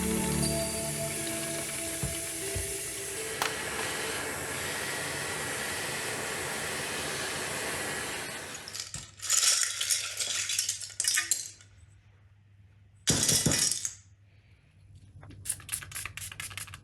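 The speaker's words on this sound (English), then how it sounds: "The keycaps are quite dirty, so I'm gonna clean them in some regular dishwashing soap," Plastic keycaps from a Commodore Amiga A1200 keyboard being washed in hot water with dishwashing soap: a steady rush of running water for about eight seconds, then bursts of clattering, swishing keycaps.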